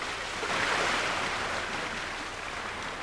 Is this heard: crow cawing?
no